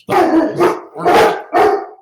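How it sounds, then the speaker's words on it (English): Several dogs bark loudly and close by in four rough bursts, one after another, with a word of speech briefly audible. "sorry for the dogs."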